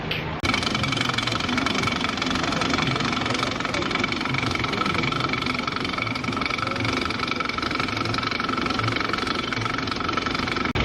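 Nickelodeon Streak roller coaster at Blackpool Pleasure Beach, a continuous loud rumbling clatter of the ride running on its track with steady mechanical drone throughout, no clear talk.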